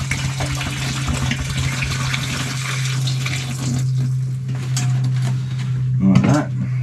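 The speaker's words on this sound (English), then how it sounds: "A bit of water." Water poured for washing aboard a sailboat, a steady splashing gush over a low hum, fading out near the end with a short clatter as it stops.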